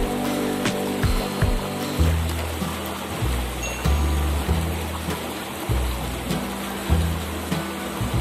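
A swift, rain-swollen river runs fast and muddy, giving a steady rushing wash of water close by with low thumps and knocks underneath, and no talk over it.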